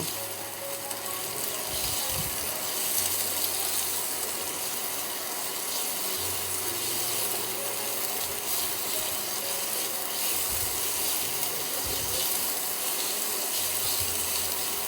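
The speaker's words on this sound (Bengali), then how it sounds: "সেই পেঁয়াজগুলোকে আমি এর সাথে এবার একটু ভেজে নেব।" Two medium onions fry in a pan for oats and tomato soup, making a steady, close sizzle with crackling and occasional scraping clicks of a spoon throughout.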